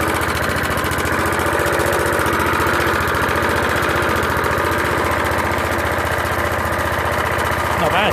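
An old Suffolk Punch 30s lawn mower engine idles after its first start in ten years, a loud, close, steady chugging putter throughout.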